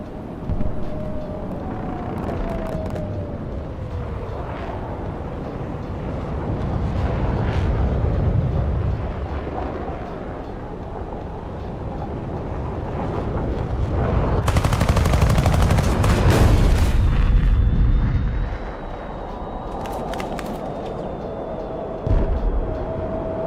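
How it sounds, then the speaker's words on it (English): Missiles and gunfire in a jet combat video game against MiGs: continuous rumbling engine and combat noise, with bursts of rapid machine-gun fire and whooshing launches swelling loud in the middle, no voices. "There's a lot of missiles coming out."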